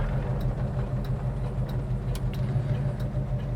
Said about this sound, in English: we'll show you that it's idling real nice, not spitting, not backfiring